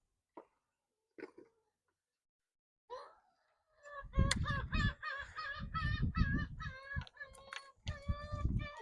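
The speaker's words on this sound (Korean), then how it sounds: "저 갈매기들을 한번 주기 시작하면 계속 뒤에서 울어요." Gulls crying behind a fishing boat, a few sparse calls at first and then a dense run of loud, harsh, repeated cries near the stern.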